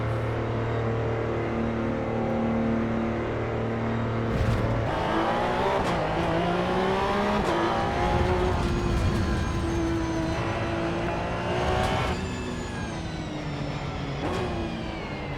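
A Porsche Cup race car in Assetto Corsa EVO drones at steady revs, then climbs through several upshifts with rising engine pitch and some tire squeal, close and continuous with no talk.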